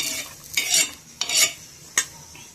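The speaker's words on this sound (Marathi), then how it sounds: "मिरच्या भाजून झाल्या आपल्या, काढून घ्यायच्या त्या शेंगदाण्यांमध्ये" Roasted green chillies being stirred into peanuts in a pan, a few distinct scraping stirs with light clinks of a spoon against metal and a faint sizzle underneath, close and without talk.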